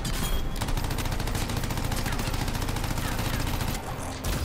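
Legendary turrets in the Anthem video game fire in a dense, continuous rapid volley, loud and close, for several seconds before briefly easing near the end.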